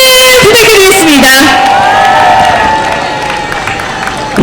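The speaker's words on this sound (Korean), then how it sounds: "다시 한번 박수를 부탁드리겠습니다" An outdoor election campaign rally crowd cheers and claps loudly while a voice speaks over it, and the noise fades somewhat toward the end.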